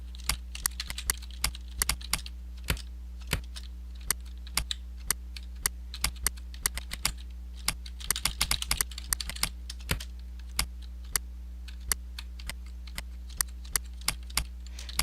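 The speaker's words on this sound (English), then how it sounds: "So now what I'm going to do is try typing." Keystrokes on a SteelSeries Apex Pro TKL mechanical keyboard, a close, steady run of sharp clicks and clacks across the whole stretch, with a denser burst partway through, heard alone over a low steady hum.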